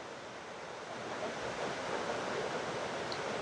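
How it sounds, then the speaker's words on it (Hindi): The heavy Kawazu Nanadaru waterfall in Izu, Japan, pours down as a constant broadband rushing roar, fairly soft and steady, swelling slightly toward the end, with no talk. "बट इतना हैवी वाटरफॉल इतने करीब से नहीं देखा था। साउंड आप देखना और किस स्पीड से ही गिर रहा है।"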